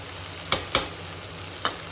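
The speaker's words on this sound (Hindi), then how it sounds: "ये जो ऑयल है ये गर्म हो रहा है, इसके अंदर ही डाल देती हूँ, सब भून जाएगा" Fennel seeds and onion frying in hot oil for a litti chokha meal give a faint, steady sizzle broken by three sharp pops or spoon clinks.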